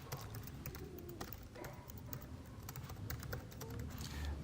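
Rapid, uneven clicking of a computer keyboard as someone types an article, quiet and close, with bursts of keystrokes and brief pauses over a low background hum.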